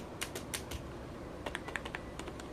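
Typing on a Zebronics Zeb-Transformer membrane keyboard, quiet soft key presses in two bursts, faint and close, over low background hiss.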